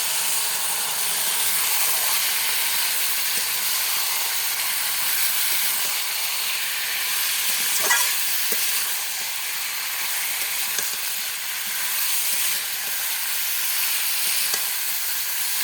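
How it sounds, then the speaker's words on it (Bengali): Mutton braising in a pan gives a continuous loud hiss and sizzle like escaping steam, steady over the whole stretch, with a few faint clinks along the way. "মাংসটা দিয়ে দিলাম এবং মাংসটা আমি কষাবো"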